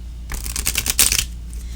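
Tarot deck being shuffled by hand, a quick riffle of crisp rapid card flicks lasting about a second, close and clear with no speech.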